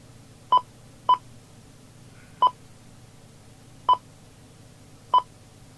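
Key tones of a Cobra 29LXEU CE MultiNorm mobile CB radio: five short, clear electronic beeps at irregular intervals over a low steady hum, with no one talking.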